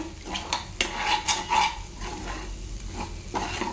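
Egg upma being stirred in a pan, with a utensil scraping and clinking against the metal over a soft background sizzle, close by and without speech.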